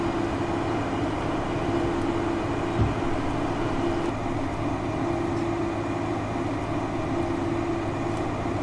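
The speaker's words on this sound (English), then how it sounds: "That train is certainly very busy." A train rumbling along in Farming Simulator 15, a steady, continuous mechanical drone with a sustained low hum and faint clicks over several seconds, without any voices.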